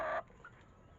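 A hen that is about to lay eggs gives a short, loud burst of clucking at the start, then goes quiet, leaving only faint background noise.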